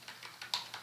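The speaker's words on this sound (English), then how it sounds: "and then I will type" Typing on a computer keyboard, heard as a few quiet, distinct key clicks in an uneven rhythm, close and alone.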